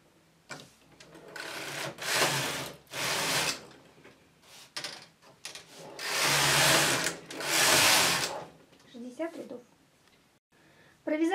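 A double-bed knitting machine knits rib rows, its carriage swept back and forth in loud rasping bursts of a second or two, separated by short pauses, with speech between passes.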